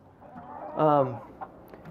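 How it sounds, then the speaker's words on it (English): A rooster gives one loud, close crow lasting about half a second, set against a faint steady rush of wind blowing around a backyard chicken coop. "You're going to hear a little bit of wind blowing and some roosters crowing."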